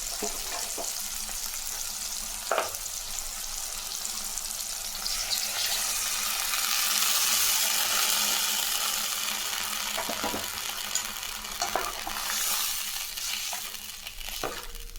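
Ground masala paste sizzles and crackles in a hot pan while dal curry is cooked. The frying stays steady with occasional clinks of a spoon stirring, and no one speaks.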